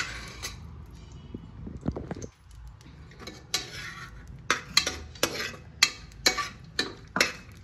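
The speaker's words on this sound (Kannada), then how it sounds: "ಇದನ್ನು ಸ್ವಲ್ಪ ಫ್ರೈ ಮಾಡ್ಕೊಳ್ಳಿ ಕ್ಲೀನಾಗಿ." A spoon stirs ingredients for sweet pongal in a frying pan, giving repeated sharp metallic scrapes and clinks against the pan in an uneven rhythm, close and fairly clear over a faint background.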